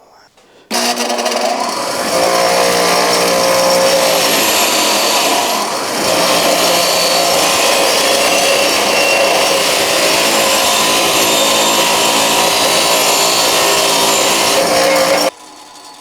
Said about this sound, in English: I'm going to use this wire wheel that I have right here to clean